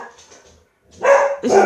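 A dog barks twice in quick succession close by, two loud bursts following a quieter stretch of low background noise, with no talking over it.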